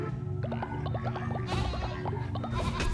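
Sheep in the Cult of the Lamb video game bleat in a rapid cluster of short, wavering calls, several voices overlapping over a soft game music bed.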